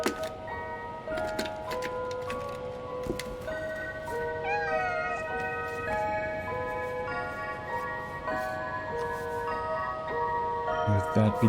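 A small cat in the video game Stray gives a few short, wavering meows near the middle, mixed fairly clearly over a steady bed of sustained tonal music and faint rhythmic ticking that continues throughout.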